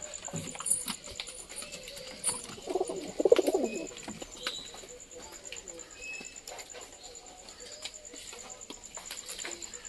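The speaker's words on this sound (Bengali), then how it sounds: "সাদা কবুতরটা বাসা করতে চায়" Soft pigeon coos come in a short cluster near the middle, with faint chirps and light clopping-like knocks around them.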